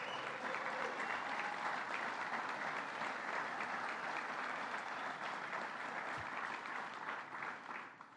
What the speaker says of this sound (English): let's give Molly Riley a big round of applause